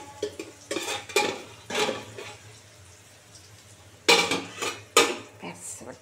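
A metal lid is set onto a frying pan of Bata fish with taro and potato frying, giving a few sharp clanks and clatters among quieter kitchen sounds, with no speech.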